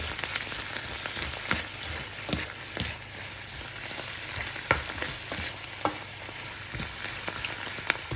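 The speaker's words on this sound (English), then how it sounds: "remove it from the frying pan" Steady sizzling and crackling of chanterelle mushrooms frying in a pan, with small pops and occasional stirring scrapes, fairly quiet and continuous.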